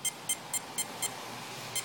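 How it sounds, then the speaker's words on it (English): Mamba electronic speed controller emitting programming beeps: six short, sharp high-pitched tones, five in an even rhythm and one after a pause, close and clear over a low background hiss. "So that's 9 beeps. And then 1 beep, so it'd be motor type."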